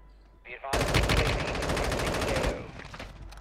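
Sustained automatic fire from a machine gun in the mobile shooter Warzone Mobile, a loud, rapid rattling burst lasting about two seconds after a brief lead-in, then stopping abruptly.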